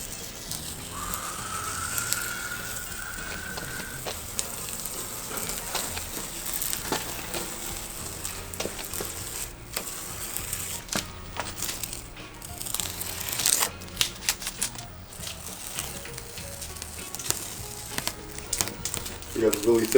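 Masking tape peeled away from freshly painted panels of a homemade apocalypse-style military truck, heard as irregular crackling and ripping snaps, some sharp and close, over a continuous background.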